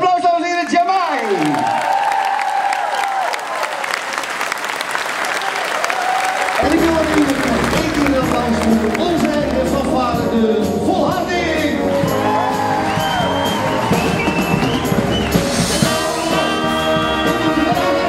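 Applause for a performer at a Dutch stage show: loud, sustained clapping and cheering from the crowd, with whoops and shouts, running through the whole stretch under music and voices.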